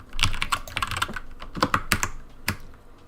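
Rapid computer keyboard typing, close and clear, with irregular bursts of keystrokes and short pauses, while a streamer troubleshoots a connection problem.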